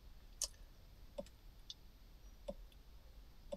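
Buttons pressed on a KINGBOLEN Ediag Elite OBD2 scanner, a handful of sharp, separate clicks spaced irregularly about a second apart, close and crisp against a quiet background.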